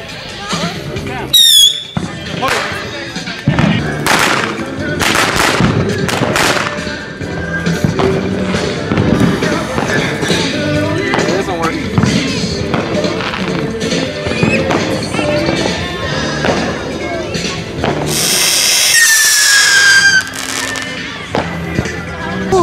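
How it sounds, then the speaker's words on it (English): A small bottle rocket firework is loaded into a little tube on the Fourth of July and launched: loud pops and bangs, then a rising whistle near the end, with people talking throughout close by. "I'm just loading a bottle rocket into this little tube so it can go up in the sky"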